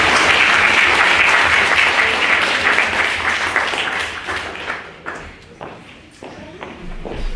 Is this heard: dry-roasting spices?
no